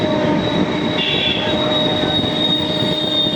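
A passenger train running on its track at about 50 km/h makes a steady, close rumble of wheels with a sustained high metallic squeal, recorded from onboard, with no talking.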